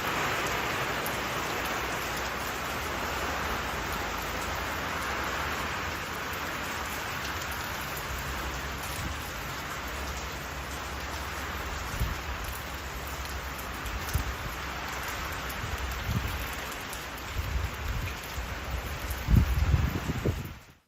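Heavy monsoon rain from a storm in Thailand drums steadily on tarps stretched over a house deck, a dense continuous hiss with occasional louder drips and gusts toward the end.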